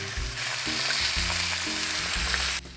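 Eggs frying in butter in a cast skillet for a steak breakfast skillet, a steady, close, loud sizzle with faint low thumps and stirring underneath, no voices.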